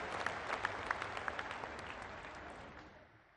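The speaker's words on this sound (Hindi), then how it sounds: "एक बार आप तालियों की गड़गड़ाहट से प्रधानमंत्री के नेतृत्व में जो काम हो रहा है पंचायती राज का स्वागत करें" Crowd applause at a large political rally for National Panchayati Raj Day in Rewa, Madhya Pradesh, a steady wash of many hands clapping at a distance that slowly fades out.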